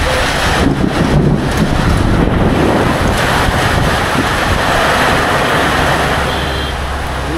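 Strong wind and heavy rain in a storm, a loud dense roar with gusty buffeting against the microphone, steady and continuous with no speech.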